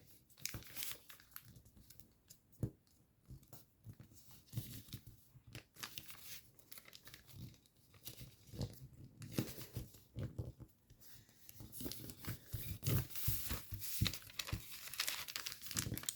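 Paper being folded into an origami fighter jet: close, crisp crinkling and creasing with rustles and sharp crackles, irregular throughout, no voices.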